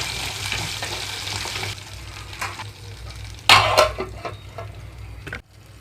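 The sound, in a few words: green chillies and fenugreek seeds frying in oil under a lid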